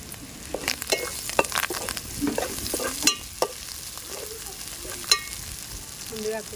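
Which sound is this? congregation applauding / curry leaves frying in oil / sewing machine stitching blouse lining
curry leaves frying in oil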